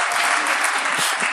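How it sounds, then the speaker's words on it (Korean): Audience at a defensive-play baseball awards ceremony breaks into loud, sustained applause, a dense continuous clapping throughout the short moment with a faint voice underneath. "여러분 희망을 좀 가지라고 큰 박수 한번 부탁드리겠습니다"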